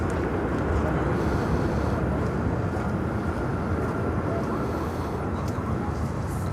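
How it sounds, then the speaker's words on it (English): An Airbus A380 jet from London Heathrow arrives at Miami airport, a dense, continuous engine roar that stays loud and even throughout. "A380 from London Heathrow. Welcome."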